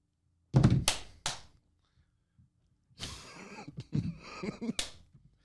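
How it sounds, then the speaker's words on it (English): A handful of sharp hand claps ring out close and loud, a quick burst of three, then after a pause a longer ragged patter of clapping trails off, in a comedy club podcast setting. "That's my clap."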